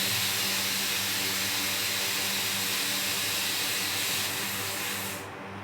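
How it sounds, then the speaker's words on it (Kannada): Small onions fry with salt in a hot pan, giving a loud, dense, continuous sizzle and hiss that holds steady throughout and then tapers slightly at the end, with no voices over it. "ಇದನ್ನು ಚೆನ್ನಾಗಿ ಫ್ರೈ ಮಾಡ್ಕೊಂಬಿಡೋಣ"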